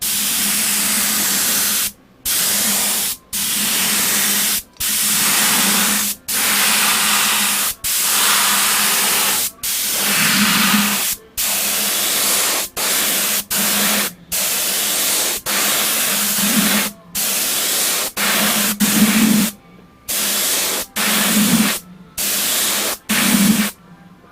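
A final finish coat is sprayed onto a segmented spalted maple turned vessel in repeated loud hissing bursts, each a second or two long and split by short pauses.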